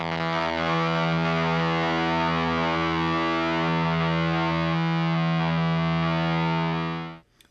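A single sustained electric guitar note through a heavy fuzz pedal, thick and buzzing with rich harmonics, held steadily for several seconds and then cut off.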